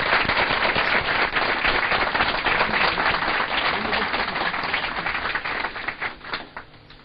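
A large crowd applauds loudly and densely at a televised gathering honouring fathers of fallen soldiers, dense clapping sustained throughout before thinning into scattered claps at the end.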